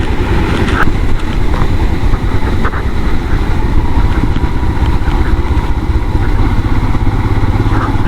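A motorcycle rides along a dirt mountain road on the Adi Kailash route in the Himalayas, its engine a loud, continuous close drone mixed with rough rumble and wind buffeting throughout, with no voices.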